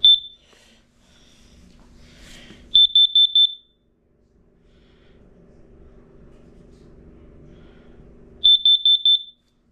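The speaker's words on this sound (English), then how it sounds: "Let's test again the carbon monoxide alarm." A carbon monoxide alarm under test gives loud, high-pitched electronic beeps in quick groups of four, one short chirp at the start and then two bursts several seconds apart, with quiet room noise between them.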